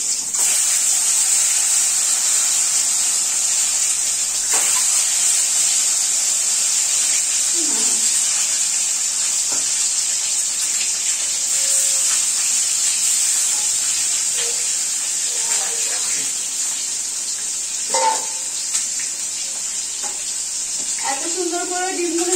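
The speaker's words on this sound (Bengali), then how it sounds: "এইখানে ভেজে নেব ডিম" Eggs frying in hot oil in a kadai, a bright steady sizzle throughout with occasional clinks and stirring sounds, close and continuous.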